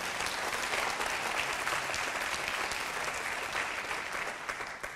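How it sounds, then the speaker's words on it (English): An audience at a health policy lecture applauds steadily throughout, a dense wash of many hands clapping that holds level before tapering slightly at the end. "Yeah, you can clap for that."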